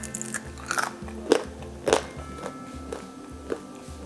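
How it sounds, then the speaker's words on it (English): Crisp bites and crunchy chewing of a crispy vegan Christmas cookie come close and fairly quiet, several irregular crunches spaced about half a second apart over a soft background. "I'm gonna taste this one because I kind of want the cookies to be a little crispy in a way"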